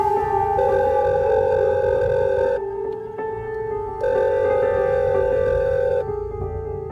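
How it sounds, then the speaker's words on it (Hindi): A phone ringtone plays, a bright repeating melodic ring with short pauses between bursts, clear and fairly loud with no talking. "पॉकेट में रखा उसका फ़ोन दोबारा बजा"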